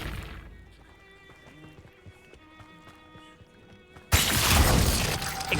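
A Glacius freezing spell in the video game Hogwarts Legacy, with quiet tinkling ice tones and soft thumps that break into a sudden loud icy shattering crash near the end.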